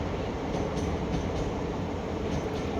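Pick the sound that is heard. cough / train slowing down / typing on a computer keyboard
train slowing down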